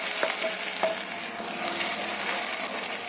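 Five tomatoes' worth of puree cooking in a pan for cheesy ravioli pasta, giving a steady, moderate sizzle with a few soft stirring clicks, close and without voices.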